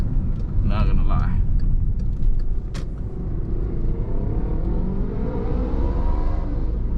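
A motorcycle speeds past a moving car on a morning drive, its rising whine sweeping upward and fading over the steady road rumble inside the cabin, with someone talking over it.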